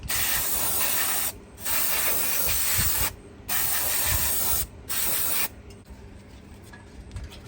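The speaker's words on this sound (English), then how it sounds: "use a can of brake clean and just kind of spray this off" Brake cleaner aerosol spray on a 2014 Ram 1500 brake caliper hisses loudly in four bursts of varying length, separated by short pauses, followed by quieter background rustling.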